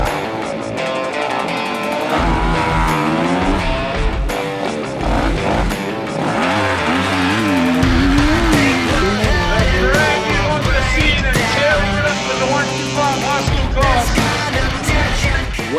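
Enduro motorcycle engine in an ExtremeX Super Diggers race revs hard over obstacles, loud sustained two-stroke-like whine rising and falling with repeated throttle bursts throughout.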